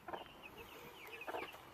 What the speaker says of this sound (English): that was my cuckoo Moran rooster